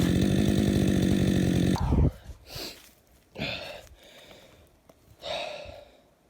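Chainsaw finishing a California black walnut stump outdoors, its loud, close engine roar cutting off abruptly, followed by several shorter sniffing or rustling bursts in the quieter stretch after.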